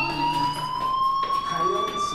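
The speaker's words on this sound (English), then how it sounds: "do you hear that fire alarm?" A school fire alarm in the video game Life is Strange rings as a loud, continuous electronic tone with steady harmonics, briefly dipping midway, while a voice speaks quietly beneath it.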